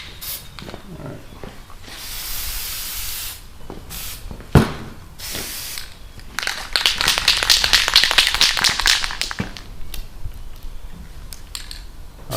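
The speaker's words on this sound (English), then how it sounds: "So we're going to spray the tops dark green and the bottoms tan" Spray paint hissing onto a rifle for camouflage, a few short bursts followed by a longer, louder steady spray, with scattered taps and handling noises around it.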